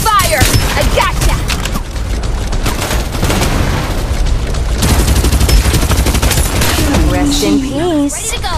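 Dense automatic gunfire and booming blasts from the video game Farlight 84 fill a loud, busy mix of shooting, while voices talk over the action.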